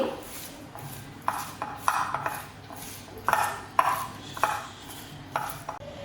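Spices, carom seeds and chilli powder stirred together in a bowl for crispy onion bhaji, giving close, repeated scraping and light clinking strokes against the bowl with no voices.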